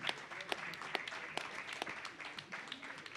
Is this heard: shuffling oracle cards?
no